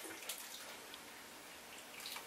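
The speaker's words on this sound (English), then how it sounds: "Give it a bit of a water." Water poured onto a potted snake plant cutting, soaking the soil in the pot, gives a soft, steady trickle and patter throughout, fairly quiet and close.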